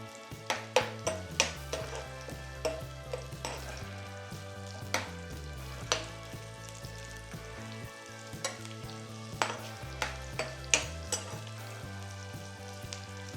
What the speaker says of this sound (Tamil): ஒரு வெங்காயம் நான் கட் பண்ணி வச்சுருக்கேன் ஸோ இதை சேர்த்துக்கிறோம்